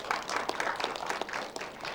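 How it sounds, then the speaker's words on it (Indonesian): A studio audience at Banten TV's Studio 1 claps together in dense, continuous applause, with many quick hand claps layered into a steady patter that stays fairly even before tapering slightly. "audiens yang sudah hadir di Studio 1 Banten TV boleh tepuk tangan sekali lagi"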